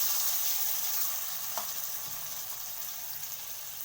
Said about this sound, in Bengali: তো দেখতেই পাচ্ছেন সরষেটা আমার ভাজা ভাজা হয়ে গেছে